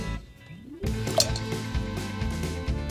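A rock dropped into water lands with a single splash and plunk, followed by a brief burst of bubbling and clinking as it settles, close and fairly loud.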